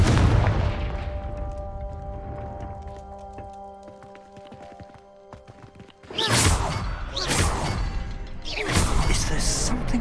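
A quieter stretch of ringing tones gives way to three loud, booming explosive fire blasts in quick succession from the Confringo spell in a video game.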